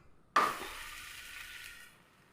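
An oats chapati lands in the pan after flipping and bursts into a sudden bright sizzle on low flame, which fades gradually over about two seconds, close and alone.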